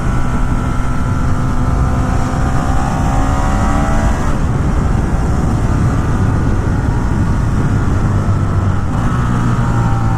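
A 2017 Ducati Monster 1200 R motorcycle engine drones loud and close while riding, its pitch rising through the revs, dropping briefly with a shift and climbing again over steady wind rush.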